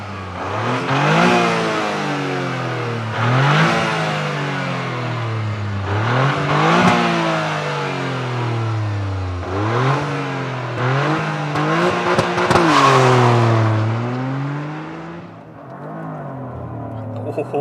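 A 2023 Toyota GR Corolla with all-wheel drive accelerates hard through several gears, the engine climbing to its rev limiter and bouncing off it before each shift, loud and close, then easing off near the end.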